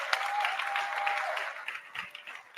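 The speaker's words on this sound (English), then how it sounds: "So let's get the round of applause to the panel one more time." An audience applauds the panel at the close of a plenary session, fairly dense clapping that fades toward the end with a few scattered claps.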